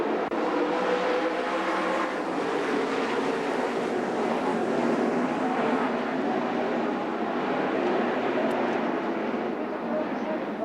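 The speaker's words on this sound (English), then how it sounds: "Stuffing the nose into the ground is where the vicious part of the impact comes" A sprint race car crashes at the Knoxville Nationals and the moment is replayed at real-time speed. A dense, steady roar of engines and crowd holds at the same loud level throughout, with no single impact standing out.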